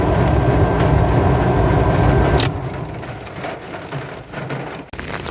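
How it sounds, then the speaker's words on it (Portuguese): Heavy rain pours down in a dense, steady roar, loud and close at first, then dropping to a softer hiss with scattered drips and passing rumbles. "Chovendo pra caramba aqui, olha."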